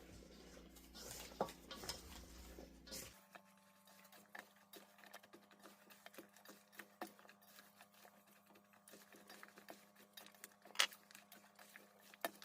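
Zucchini slices sprinkled with seasoning salt are tossed in a bowl, producing scattered soft clinks, scrapes and rustling taps, fairly faint and close, with a brief louder stretch at the start.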